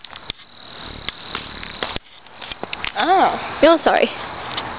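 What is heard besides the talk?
crickets chirping outdoors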